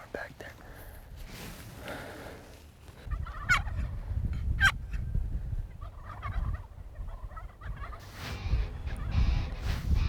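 Wild turkeys gobble during a spring hunt, the rattling gobbles sounding at a moderate distance in a few short bursts over steady outdoor rumble, with faint whispered voices nearby.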